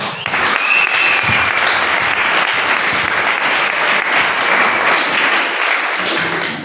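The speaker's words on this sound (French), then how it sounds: "Je crois que vous deviez acclamer." A wedding audience bursts into loud, steady applause, with dense clapping from many hands close by that holds evenly for several seconds without a break.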